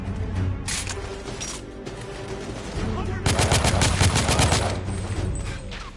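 Repeated heavy gun blasts in the video game The Order: 1886, a shotgun among them, with bursts of rapid fire, one early then a longer loud volley, and occasional voices in between.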